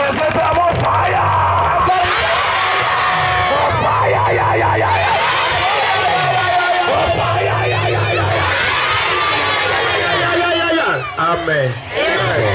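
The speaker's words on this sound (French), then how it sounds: "Acclame très fort pour Jésus-Christ" A church congregation cheers and shouts loudly for Jesus Christ during a worship service, a dense, sustained roar of many voices with whoops, filling the room throughout.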